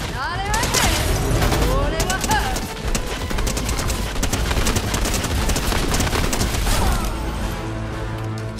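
Dense, continuous gunfire from a Fortnite ranked zero-build match, rapid overlapping shots and booms packed together for the whole stretch, loud and close with someone speaking over the barrage.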